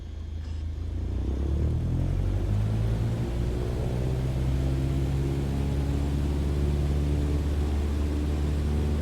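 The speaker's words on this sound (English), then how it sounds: "Apply full power and I'll walk you through the takeoff as we go." A simulated Cessna 152 engine at full takeoff power in Microsoft Flight Simulator builds quickly into a loud, steady droning rumble with a low propeller hum that holds for the rest of the run; no voices.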